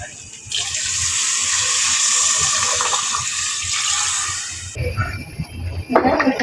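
Water poured into a pot of lightly fried rice being cooked as khichuri, a steady broad rushing stream lasting several seconds before stopping, followed by clattering kitchen sounds.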